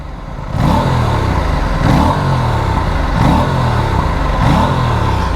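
Aprilia RS 457 twin-cylinder motorcycle idling up close with a steady exhaust rumble, blipped four times in an even rhythm as the engine rises and falls, with no talk over it.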